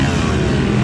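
A motorcycle engine fitted with a Lectron Billetron carburetor revs hard, a loud, close, continuous roaring drone with no break over the short stretch.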